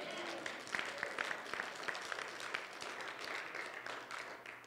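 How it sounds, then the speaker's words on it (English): A church congregation claps together in a scattered, lively burst, moderately distant, with some voices mixed in. "I'd like to hear an amen, a clap for that."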